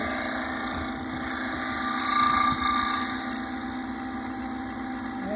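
A wood lathe turning a cornice while a negative-ground tool cleans up a cove cut, giving a steady motor hum and whine with a faint scraping texture, fairly close and alone.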